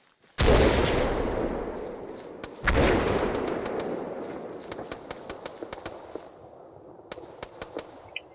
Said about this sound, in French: Un tir d'artillerie a été commandé sur notre position